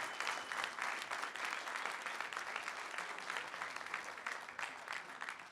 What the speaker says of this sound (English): Let's give this great panel a round of applause